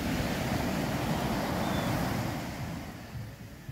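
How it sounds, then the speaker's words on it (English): Surf washes onto Chacala Beach in Nayarit, Mexico, a broad continuous roar of breaking waves, near and fairly loud, with wind rushing across the microphone and no voices. "I'm back at the beach"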